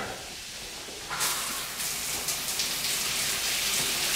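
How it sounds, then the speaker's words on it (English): Shower in a model home bathroom starts running a second in, a steady broad hiss of spraying water that carries on, close and fairly loud, with no talk. "Shower"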